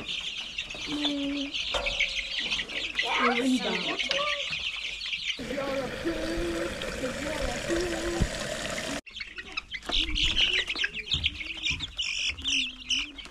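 Chickens on a homestead in New Zealand cluck and chirp close by, with overlapping short calls and squawks that come thick and busy throughout.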